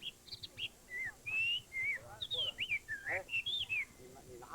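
Pet songbirds sing in a park, a string of bright, melodic whistled chirps and trills rising and falling at a moderate distance over a low background murmur.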